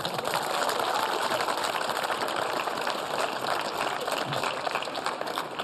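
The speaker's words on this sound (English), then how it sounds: "How about a clap for that?" Studio audience clapping at a 2006 televised interview with Shahrukh Khan, a dense, even wash of applause held at a moderate level from start to finish, with no clear speech on top.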